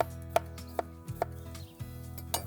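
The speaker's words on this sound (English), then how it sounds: "We'll chop a little bit of fresh onion." A knife chops fresh onion on a board, with a few sharp, separate taps at an unhurried pace over a low steady hum.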